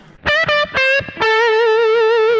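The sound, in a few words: guitar with subtle reverb effect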